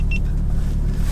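A 600bhp VW Golf R engine gives a brief, close, steady low rumble under light throttle.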